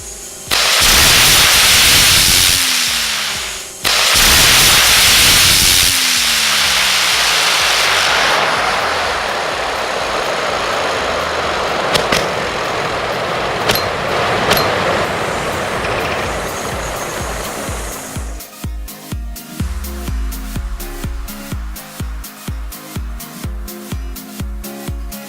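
Small rocket motors fastened to a fidget spinner fire with a loud, roaring hiss that cuts out briefly and then continues for many seconds, before giving way to a rapid, pulsing whir that slowly fades.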